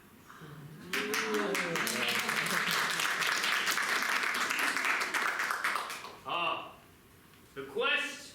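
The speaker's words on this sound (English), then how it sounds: "Let's hear a big round of applause for Aubrey." Audience applause at a live Synergy Theater adventure-serial show, a loud burst of dense clapping lasting about five seconds after a short stretch of talk, then fading into further speaking voices.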